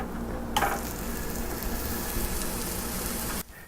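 A burger patty hits a lightly oiled black iron pan, bursting into a loud, steady hiss and crackle that holds evenly for about three seconds before stopping abruptly, no voices.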